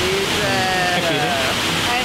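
The Batu Barak waterfall in Bali rushes in a dense, constant roar, loud and close, while a voice speaks over it.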